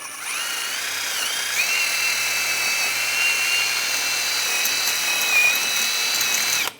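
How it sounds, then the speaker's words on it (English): A power wire brush scrubs rust off a Mercedes-Benz E350 wheel hub in a steady high-pitched whine for several seconds, close up, then cuts off abruptly. "Now I'm going to clean up the hub surface. I'm just using a wire brush"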